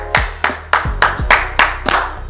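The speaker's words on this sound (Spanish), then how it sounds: "Un aplauso, súper bien." Rhythmic hand claps after an intense abdominal workout, eight sharp claps in a steady, fairly loud, close beat, with a low hum underneath.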